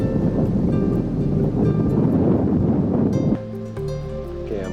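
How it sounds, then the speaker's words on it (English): Strong wind roars across the Alpine Loop mountain pass near Animas Junction, a loud, steady rushing noise buffeting the microphone, joined near the end by a low engine hum from a long-wheelbase pickup. "And as you can probably hear, it's pretty windy"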